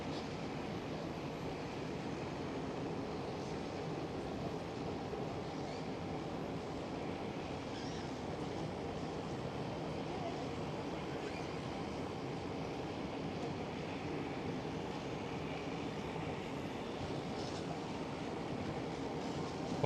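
An Airbus A320 lands on runway 27 at Schiphol Amsterdam, a steady broadband jet roar holding at an even level from start to finish, with no voices.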